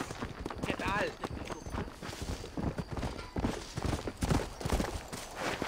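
Horse hooves clip-clopping in the video game Red Dead Redemption, a steady rapid beat of galloping hoofbeats at moderate loudness under someone talking throughout.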